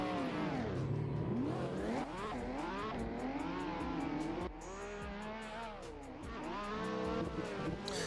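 At a drift competition, drift cars roar through a tandem battle, engines revving hard with rising and falling pitch and tires squealing, loud and close, while a commentator speaks over the action.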